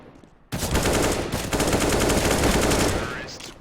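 AK rifles firing in a Counter-Strike match: after a brief lull, dense rapid automatic gunfire bursts in loudly and rattles on for about three seconds before tapering, with faint commentary underneath.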